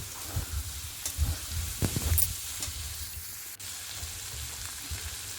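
Boiled potatoes sizzle in a pan, steady soft frying with a few scraping stirs and clinks of the spatula near the start, fairly quiet and close, no voices.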